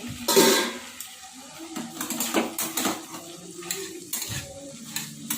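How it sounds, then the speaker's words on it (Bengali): A spoon stirs potato fry (aloo bhaji) in a pan, giving irregular scraping and clinking strokes over a soft sizzle, close and moderately loud. "আবার দেখুন ঢাকনাটা খুলে একটু নাড়বো।"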